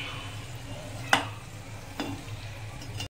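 Satvik modaks deep-fry in hot oil, giving a faint, continuous sizzle broken by two short sharp clatters, one louder than the other, with no voices.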